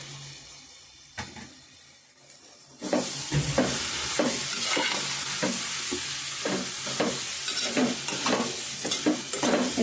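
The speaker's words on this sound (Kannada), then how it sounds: "ಇವಾಗ ಮಶ್ರೂಮ್ನ ಸೇರಿಸ್ಕೊಂತ ಇದ್ದೀನಿ" Mushrooms for biryani hit a hot pan after a quiet start, then sizzle and fry loudly while a spoon stirs and scrapes in repeated strokes, close and continuous.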